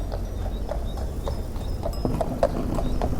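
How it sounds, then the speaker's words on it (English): A farm horse's hooves clip-clop in a steady walking rhythm over a low ambient rumble, moderately close and without talk. "Using a farm horse"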